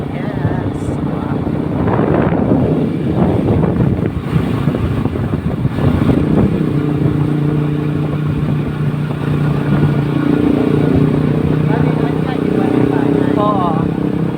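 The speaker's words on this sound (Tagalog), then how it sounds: "maraming mga motor yung nakasunod sa amin ngayon" Motorcycles on a rural road heard from a moving vehicle, a continuous engine drone with strong wind buffeting, and people talking over it.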